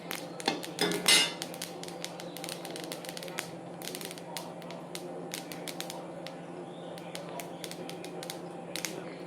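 Roasted black sesame seeds are tipped from a pan onto a metal plate, giving a rattling patter of many tiny clicks and taps, denser at first and then scattered, close and fairly crisp; no one speaks.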